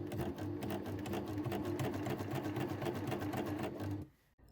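A coverstitch sewing machine runs steadily, stitching three rows on fabric with a fast, even mechanical whir and needle rhythm close by, then stops abruptly near the end.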